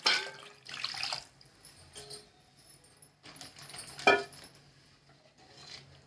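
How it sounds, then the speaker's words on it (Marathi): A little water poured into simmering ghee-tempered Khandeshi kadhi, brief splashing and trickling bursts mixed with clinks of utensils against a pot, fairly faint, with quiet gaps between. "थोडंसं पाणी टाकून घेते"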